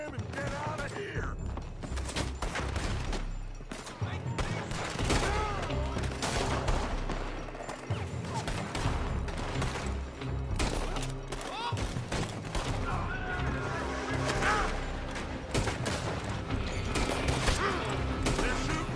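A gunfight in the video game Red Dead, with a dense, continuous volley of shots, clatter and impacts filling the scene, and character voices under the gunfire.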